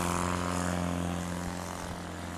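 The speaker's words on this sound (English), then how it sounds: "Another nice clean takeoff from Alan." A STOL propeller plane takes off at a fly-in in Brainerd, Minnesota, its engine drone loud and steady with a strong tonal hum that slowly fades as it climbs away.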